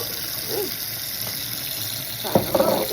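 Walnuts rinsed under a running kitchen tap, a steady close stream of water with brief splashes and clatter near the end, no voices.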